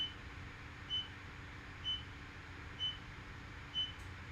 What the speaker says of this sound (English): Let's just wait for a moment when my beeping stops.